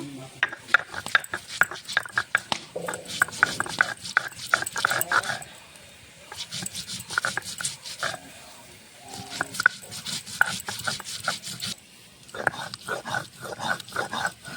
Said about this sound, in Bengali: আদা জিরেটা একসঙ্গে বেটে নেব